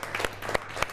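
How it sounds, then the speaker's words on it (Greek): An audience at a Greek food event at Akropolis restaurant in Profitis Ilias, Kavala, claps briefly, with steady scattered clapping and a few sharper claps. "Ένα χειροκρότημα λοιπόν."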